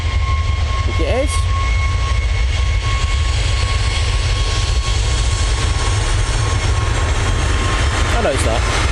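An airliner departing Manchester Airport roars loudly and steadily throughout, a broad continuous engine rumble with a faint whine on top and occasional brief bird chirps.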